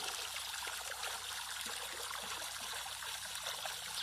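Water from a solar-powered pump pours through a one-inch pipe into a pool beside rice fields, a continuous close splashing trickle that stays steady and fairly soft throughout.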